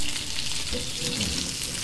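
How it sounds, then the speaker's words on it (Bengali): Pieces of rohu fish fry in a pan with a steady, close sizzle and crackle lasting throughout, loud and continuous with no voices. "রুই মাছ ভাজি করে নিচ্ছি"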